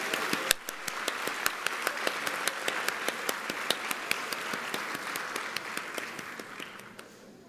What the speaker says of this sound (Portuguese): Outra salva de palmas.